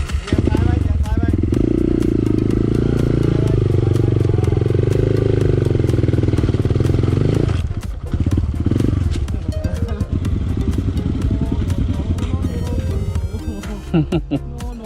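Dirt bike engine revving hard and accelerating on an enduro trail in Lampang, loud and close with a sustained rising roar, easing off near the midpoint before revving again, while a rider calls out over it.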